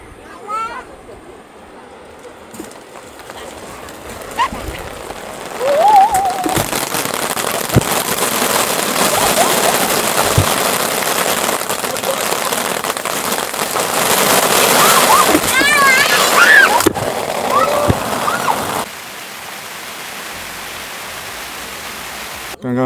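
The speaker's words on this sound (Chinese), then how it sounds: "刚刚突然来了一阵大雨" A sudden heavy downpour hits a high-altitude campsite, building into a loud, dense rush that lasts over ten seconds before easing off, with voices heard around it.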